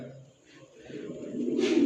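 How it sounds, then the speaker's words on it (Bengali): A Pakistani pigeon gives a soft, low coo, followed by a brief louder rustle near the end. "এই আবার চলে আসলো পাকিস্তানি কবুতর"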